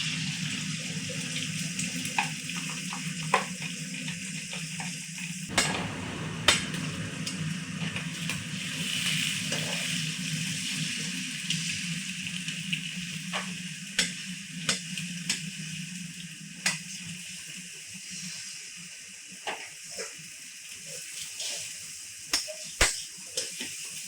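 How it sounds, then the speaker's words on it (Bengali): Egg sizzling in hot oil in a pan, stirred and broken up with a spatula, gives a steady frying hiss with scattered scraping clicks and taps, moderately quiet and without talk. "তেল গরম হয়ে গেছে, এবার ডিমটা দিয়ে দিই।"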